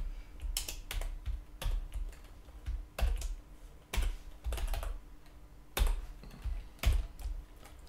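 Code being typed on a computer keyboard, with steady bursts of close key clicks and short pauses between runs of keystrokes, and no talk.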